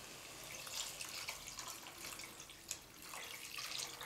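Strained tamarind water poured into a Kerala-style fish curry, a steady soft trickling and splashing of liquid, close and continuous with no voices.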